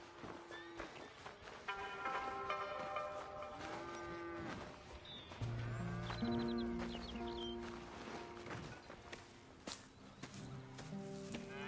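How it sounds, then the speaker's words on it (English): Cattle on a ranch in Red Dead Redemption 2 moo repeatedly in long, drawn-out lows over shuffling hooves and footsteps, with a faint bird call and soft game ambience in the background. "Here's the cows."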